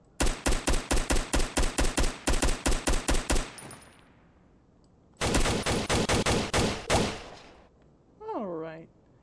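Rifle gunfire in the Roblox game Blox RP comes as two rapid bursts of evenly spaced loud shots, separated by a short pause, and is followed by a brief burst of whooshing sound effects.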